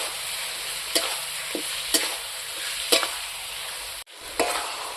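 Chicken stirred in a hot pan with onion and spices, a steady sizzle broken by a few sharp scrapes of the spoon at regular intervals, close and without talk.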